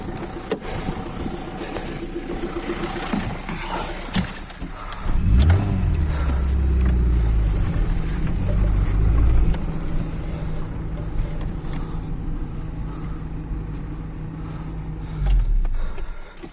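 A Volkswagen Amarok pickup's engine revs and strains while towing a stranded car, a loud low roar that rises sharply around the middle, holds, then swells again near the end.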